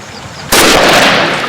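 A single loud, sharp gunshot from a Russian Dragunov sniper rifle, used for long-range target shooting, cracks suddenly and decays into a short rumbling tail.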